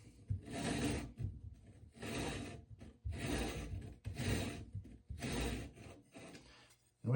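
An arrow mod saw fitted with sandpaper rasps against an arrow shaft in five long, even strokes with short pauses between, close and fairly loud. The shafts are Easton 5.0 arrows.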